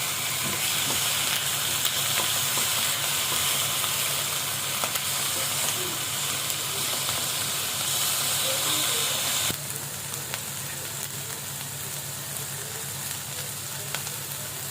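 Meat searing in a pan over high heat gives a loud, continuous hissing sizzle that runs unbroken, dropping slightly in level partway through; no talking.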